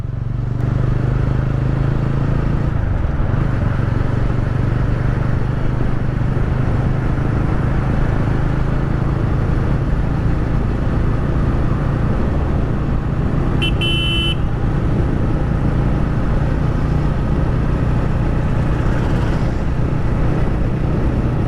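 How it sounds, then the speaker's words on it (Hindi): Steady loud TVS Ronin 225 motorcycle engine drone while riding, a constant rumble with road and wind noise, and a brief horn toot midway. "आप सुनना बाइक का साउंड कितना प्यारा आता है"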